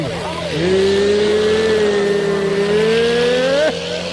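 A tractor engine revs hard at a tractor contest ground, holding a loud, steady high drone for several seconds before cutting off, with a crowd murmuring underneath.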